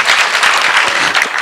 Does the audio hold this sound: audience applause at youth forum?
yes